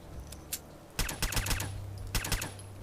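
A suppressed Deliverer pistol in Fallout 4 fires a couple of single shots, then a fast burst of muted cracks. A later quick cluster of sharp clicks and pops fits a reload.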